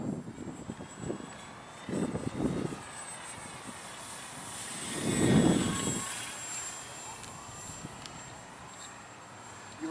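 RC Durafly MK-24 Spitfire model warbird flying at low throttle, a thin electric motor whine drifting past at a distance with a swell as it passes nearer, with murmured voices in between.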